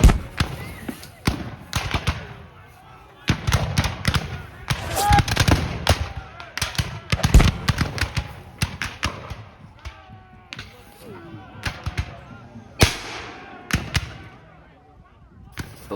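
A musket volley rings out at a Battle of Fredericksburg reenactment: a rapid, ragged string of sharp cracking shots over about sixteen seconds, loud and echoing, with voices among the firing.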